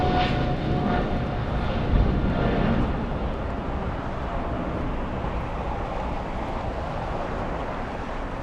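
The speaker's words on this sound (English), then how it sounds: "Big 777." A British Airways Boeing 777 airliner passes at Los Angeles International Airport, a steady, broad jet roar that stays loud and continuous throughout with a slight swell early on.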